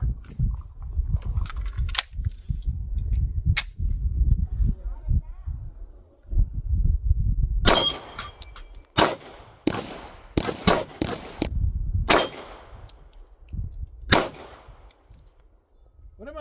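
Gunfire from a Beretta APX pistol at a shooting range: sharp, loud shots, single and in quick clusters, with a metallic ring, between stretches of people talking nearby.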